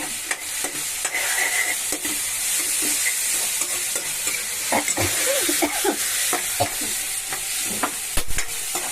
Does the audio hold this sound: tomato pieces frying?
yes